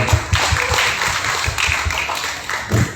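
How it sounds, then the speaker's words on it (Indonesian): An audience at an Indonesian stand-up comedy and cultural event in Banten bursts into applause, a dense wash of clapping hands that holds steady for a few seconds in a large room. "tepuk tangan dong buat teman-teman stand up"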